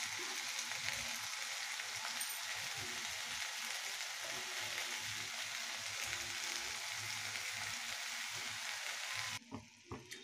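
Skinless chicken pieces fry in hot oil for a chicken curry, giving a steady, even sizzle that fills the whole stretch before a few stirring clatters at the end.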